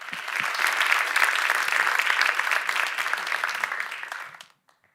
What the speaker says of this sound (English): Let's all give Barry a big round of applause